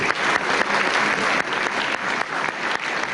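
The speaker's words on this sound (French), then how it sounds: "je vous demande de l'applaudir" Loud, steady applause from a large audience, many hands clapping densely and continuously without pause.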